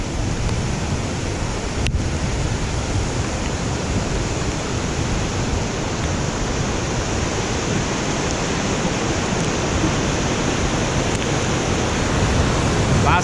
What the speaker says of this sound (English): We're here at the Madawaska River, the bridge crossing here.